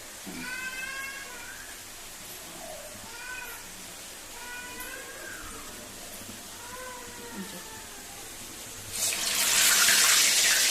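Water poured from a tap splashes onto a sheet of newspaper used for shaping minapa garelu, a loud, rushing burst near the end that follows a cat meowing repeatedly in the background.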